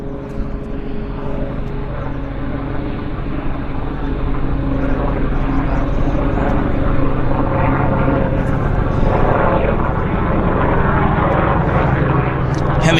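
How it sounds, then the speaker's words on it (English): An Air India Boeing 777 starts its engines at Vancouver airport, giving a broad, steady jet rumble and rising whine that builds gradually. A voice talks over it. "Triple Air India is starting engines right now."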